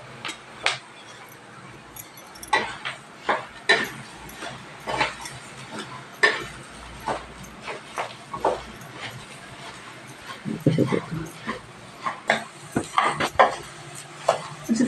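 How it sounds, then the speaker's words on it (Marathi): About a kilo of coriander seeds dry-roasting in a pan for Satara-style spice mix, stirred in repeated dry scrapes and clinks of a spoon against metal, moderately close, with faint background noise between strokes. "आता धनं भाजते"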